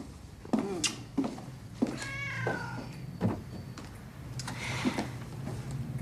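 A cat meows several times, a few short calls and one longer drawn-out meow, fairly close in a quiet indoor room with a faint ticking and soft background noise.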